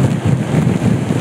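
Strong gusting wind buffets the microphone in a loud, steady low roar during an outdoor road cycling race.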